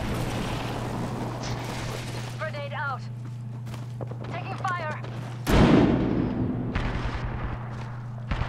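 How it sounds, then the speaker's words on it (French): A grenade bursts in an Apex Legends match with a loud, sudden boom partway through, amid ongoing gunfire and the rumble of the game, while players talk over it. "Grenade out."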